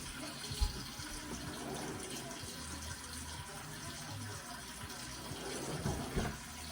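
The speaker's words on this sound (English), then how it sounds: "I've got my water running." Kitchen tap water running steadily into a sink while yeast is readied for baking, a continuous broadband wash at moderate level with a few brief clunks, no talking.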